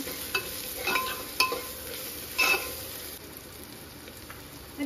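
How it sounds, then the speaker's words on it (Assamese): Chicken stirred with cumin and coriander powder in a sizzling pot for chicken pulao, a continuous close frying hiss broken by several scraping stirs of a spoon against the pot. "জিৰা পাউডাৰ, ধনিয়া পাউডাৰ দি এইখিনি ভালকৈ মিলাই ল'ম।"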